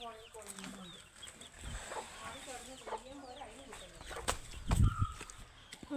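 Chickens cluck softly nearby with scattered short calls and a few clicks and rustles in a quiet yard.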